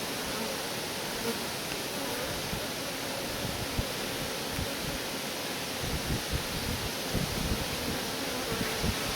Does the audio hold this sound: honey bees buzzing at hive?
yes